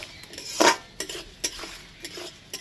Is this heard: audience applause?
no